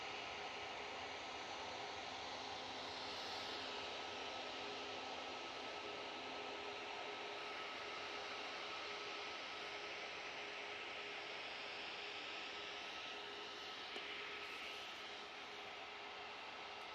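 An EasyJet A320 airliner's engines on a cold morning at Manchester Airport, a loud, steady broadband roar that fills the whole stretch without a break.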